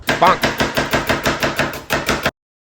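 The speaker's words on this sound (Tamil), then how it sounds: "வெங்காயத்தை பொடியா நீளமா வெட்டி வறுத்துக்க போறோம்" Onions sliced thinly lengthwise on a board for frying into birista for dum biryani, a fast, steady run of about a dozen loud, close knife chops that stops abruptly, with no talking.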